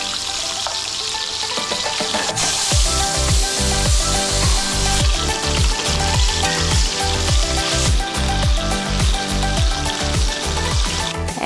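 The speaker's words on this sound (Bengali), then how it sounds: "মাছগুলো সব এক এক করে ভেজে নিলাম" Pangas fish pieces frying in hot oil in a pan, a loud continuous sizzle with repeated sharp crackling bursts and pops throughout, close and prominent with no talk.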